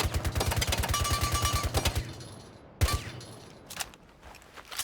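Rapid automatic gunfire from a weapon in the game Rainbow Six Siege, a fast even burst of about two seconds, followed after a pause by a single louder shot and a short trailing burst.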